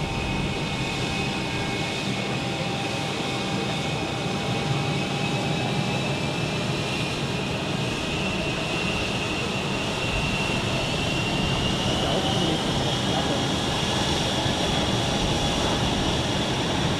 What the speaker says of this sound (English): This A320 is now taxiing on taxiway Foxtrot, which is the inner of the two parallel taxiways which are parallel to runway 16.